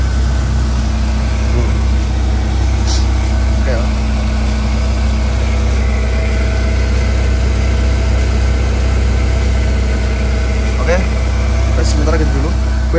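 A 1997 BMW E36 318i with a manual gearbox idles steadily and smoothly, a loud, constant low engine drone throughout, while people talk nearby over it.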